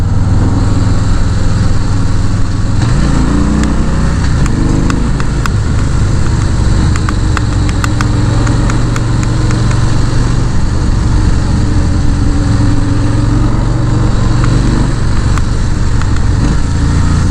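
A Harley-Davidson Fatboy motorcycle engine revving and pulling hard under acceleration, loud and steady throughout with rising and falling pitch as it winds out.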